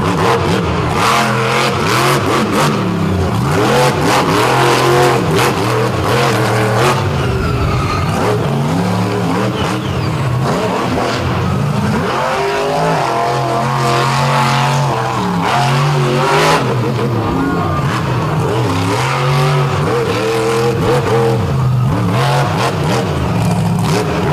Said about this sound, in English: That truck just has a different sound to it, and it's that raw, heavy thump of that big Oldsmobile power plant.